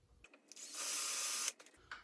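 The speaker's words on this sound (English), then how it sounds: "Let's see if we don't break this drill bit off." A power drill bores into metal, whirring loudly for about a second, bracketed by short clicks and bursts of mechanical noise.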